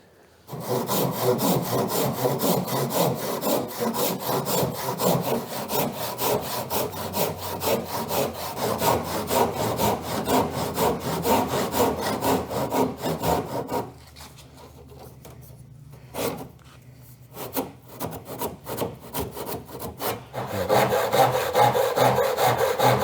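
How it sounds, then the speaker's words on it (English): A hand saw cuts through wood on a boat transom, rapid steady strokes rasping loudly for about fourteen seconds, then a quieter pause with a brief stroke before heavy sawing resumes near the end. "leave it a little long and then pass a saw through it"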